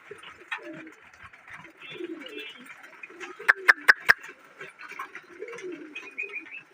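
Domestic pigeons coo softly in a home loft, a steady low murmur broken midway by four sharp, evenly spaced knocks, with faint talking underneath.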